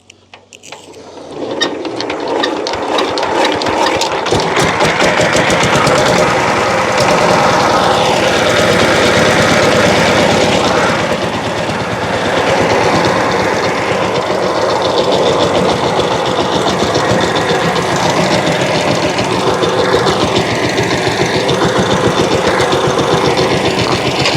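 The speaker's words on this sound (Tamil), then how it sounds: "இது வந்து ஒரு ஆபத்தான உழவு இயந்திரம்" A tractor-drawn rotary plough tills a farm field. Its engine drones loudly and steadily over the whole stretch, with rapid rattling and ticking from the spinning blades close by.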